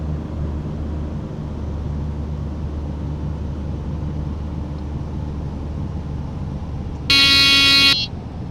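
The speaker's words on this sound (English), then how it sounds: "Got the gear horn going off there." Landing gear warning horn in a Carenado Piper Navajo flight simulator, a loud steady electronic tone sounding for about a second near the end over a constant low engine drone in the cockpit.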